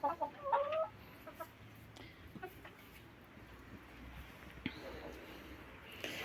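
Hens in a backyard cluck loudly and close at the start, then quieter scratching and faint farmyard sounds continue with some low talking in the background.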